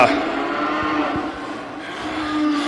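A heifer at a fall fair commercial cattle show gives one long, loud, close moo that fills the whole moment, with faint hall ambience behind it.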